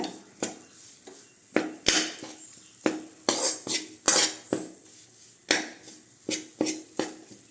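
Dates halwa is stirred in a pan over medium-low heat, a spoon knocking and scraping against the metal in repeated sharp, close strokes with soft sticky sounds between them.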